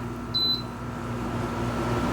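A VEVOR tower fan running on high speed gives a steady, close airflow hiss with a faint hum, and a short electronic beep sounds near the start.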